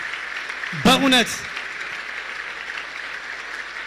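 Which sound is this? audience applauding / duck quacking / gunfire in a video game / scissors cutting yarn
audience applauding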